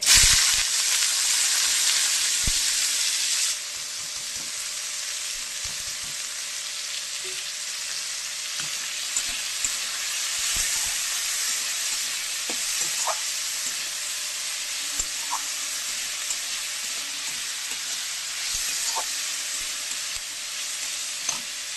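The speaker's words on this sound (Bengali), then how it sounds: "উচ্ছে ভাজাটা ভেজে নেব। ভাজাটা হতে থাক, লাল কড়মড়ে করে ভাজবো।" Loud, steady sizzling of sliced bitter gourd frying in hot oil with dried chillies, which softens slightly after a few seconds and continues evenly with occasional small pops.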